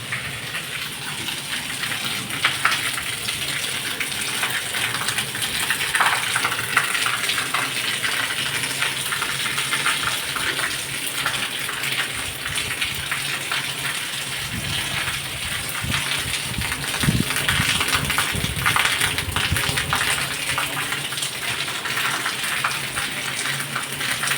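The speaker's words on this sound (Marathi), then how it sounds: "पाच वाजता बघा पाऊस चालू झाला आहे" Heavy evening rain pours down steadily for the whole stretch, a dense, loud, continuous hiss with scattered splashes and patters and no voices.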